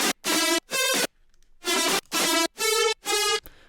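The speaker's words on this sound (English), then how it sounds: "So it's a fully distorted, really muddy, aggressive lead." A fully distorted, muddy, aggressive synth lead from a future bounce track hits in seven short, loud, buzzing stabs with a bouncy rhythm and brief gaps between them, heard alone.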